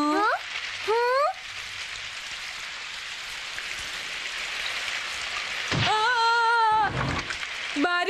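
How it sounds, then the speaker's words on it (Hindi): Rain pours steadily in a Doraemon cartoon, a constant hiss running through the whole passage while cartoon voices talk over it near the start and end. "बारिश हो रही है डोरेमोन।"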